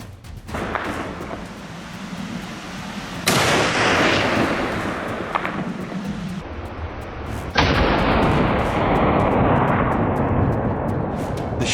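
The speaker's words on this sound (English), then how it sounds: "The shot echoed across the valley, sending the herd into chaos." Hunting rifle shots ring out across a valley after a wild boar appears at night: two loud, sharp blasts, each followed by a long rolling echo that fades slowly, over a steady background of wind and rustling.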